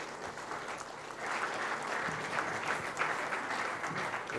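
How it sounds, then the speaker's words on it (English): Arena audience at the World Eightball Pool Championship men's final breaks into steady applause for the federation president, dense clapping that swells after the first second and holds. "I'd like you to put your hands together"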